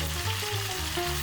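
Chicken pieces coated in potato starch deep frying in oil at 180°C, a loud, steady bubbling sizzle that runs unbroken and close by with no voice.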